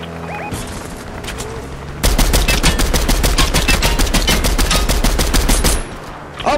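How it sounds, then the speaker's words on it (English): Rapid DMR gunfire in Fortnite aimed at the player, a dense burst of fast repeated shots lasting several seconds, loud and close, with scattered game sounds before and after. "they're shooting me with DMRs"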